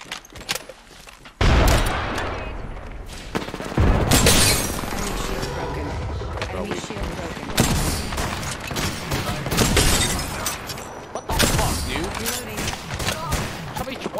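Frag grenade explosions in the video game Apex Legends, with loud bursts and booms amid rapid gunfire and shattering impacts through a chaotic firefight, under the game's background sound.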